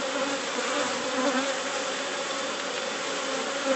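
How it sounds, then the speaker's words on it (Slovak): Honeybees buzz steadily at an open beehive during a queen replacement, a dense, continuous drone from many calm bees close by with no talking. "Vidíme, že včelky sú pokojné."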